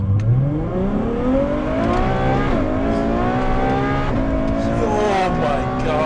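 Widebody Ferrari F12 V12 engine accelerating on a public road, loud climbing revs with rising whine across gear changes, heard from close inside the car with voices underneath.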